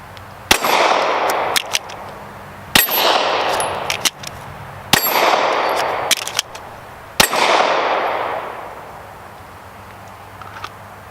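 Pistol shots crack out during a speed reload drill at a range, four sharp loud reports spaced about two seconds apart, each followed by a ringing metallic tail and short gaps of handling noise.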